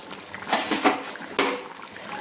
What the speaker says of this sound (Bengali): দিয়ে একবার আমি খুন্তি দিয়ে নেড়ে দিলাম